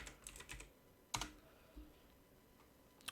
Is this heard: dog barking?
no